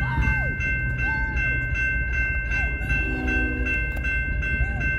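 Norfolk Southern freight train 331, led by locomotive NS 9787, approaches on Harrison Avenue in Trenton, Michigan, with a loud sustained horn chord over the rumbling engine and clicking wheels nearby.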